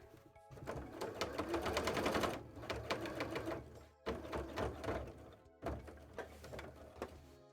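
Sewing machine stitching through thicker cotton fabric, rapid close mechanical whirring in three bursts separated by brief pauses, each run with a dense rattling needle rhythm.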